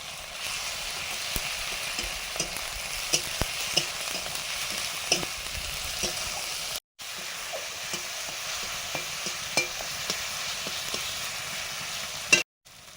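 Chopped tomato and small pieces of garlic fry in a pan with a continuous close sizzle. Scattered clicks and scrapes of stirring run through it, with two brief breaks.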